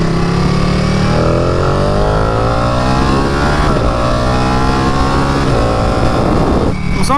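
A Ducati Panigale motorcycle accelerates hard, its engine note climbing through rising pitch sweeps, loud and close for the whole stretch, with an apparent gear change midway and another near the end.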